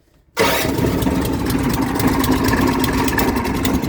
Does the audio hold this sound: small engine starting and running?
yes